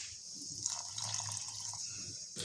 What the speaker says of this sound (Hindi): मैं थोड़े थोड़े पानी डाल करके एक अच्छी सी डो तैयार कर लेती हूँ।